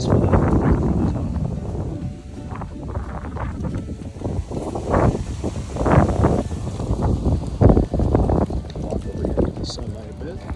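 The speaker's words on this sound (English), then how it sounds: "It's tremendously windy out," Strong gusting wind buffets an outdoor microphone, rumbling loud and broadband throughout, with bursts swelling and easing as a person walks and talks under it.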